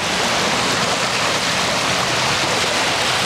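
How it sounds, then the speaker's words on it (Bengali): Sea waves on the shore at Saint Martin's Island roar in a loud, unbroken wash of surf close by, with no voices over it. "আপনাদের একটু পানির শব্দ শুনাই সমুদ্রের গর্জন যেটাকে বলে"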